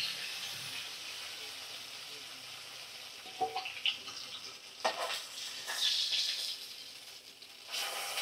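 Fish, bhola fish among them, frying in oil in a kadai, a steady close sizzle with stirring and scraping bursts rising toward the end, no voices.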